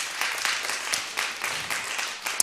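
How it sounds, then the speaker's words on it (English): An audience at a conference event applauds, with dense, steady clapping that swells and fades in waves over a couple of seconds, with no talk over it. "Applause."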